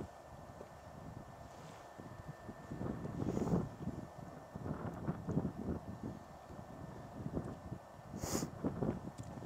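High wind on a clifftop rumbles and buffets against the microphone in uneven gusts, swelling and fading in loud low roars, with a short sharp rustle near the end.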